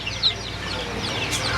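A country hen with nine chicks clucks near the listener, short soft clucks mixed with high thin chick peeps and chirps, steady farmyard noise underneath.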